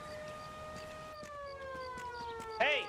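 An ambulance siren in the video game L.A. Noire wails in a steady drawn-out tone at moderate distance, slowly falling in pitch, with a short sharper burst at the end.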